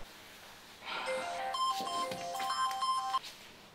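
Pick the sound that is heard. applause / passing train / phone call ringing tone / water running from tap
phone call ringing tone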